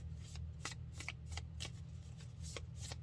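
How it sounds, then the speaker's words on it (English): A deck of playing cards is shuffled in several quick riffling bursts at an irregular rhythm, close and soft over a low steady hum, with no voices. "You got communication underneath the deck there before I started shuffling."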